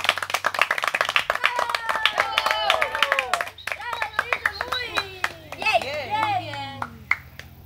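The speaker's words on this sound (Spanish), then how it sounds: "¡Un aplauso!" A small group claps for a participant in a challenge game: sharp, uneven handclaps spread through the clip while lively voices, including children, talk and call out over them.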